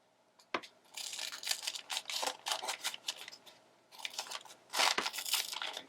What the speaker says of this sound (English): So let's cut these shapes out.